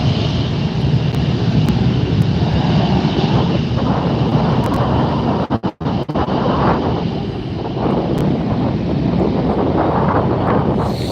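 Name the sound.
airplane passing at LAX airport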